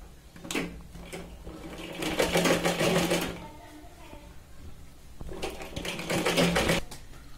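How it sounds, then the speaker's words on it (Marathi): A sewing machine stitches seams on a blouse in two close, rapid whirring runs separated by a brief pause, while someone talks quietly over it. "हे बघा इथे आपण 2 शिलाई लावून घेणार आहोत."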